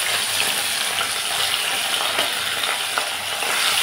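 Fish pieces fry in hot mustard oil in a kadai, a dense, steady close sizzle with faint crackles running unbroken from start to finish.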